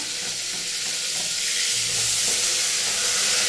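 Onions fry with spices in a hot pan, giving a continuous bright sizzle that holds steady and close, with faint low bubbling underneath and no voices.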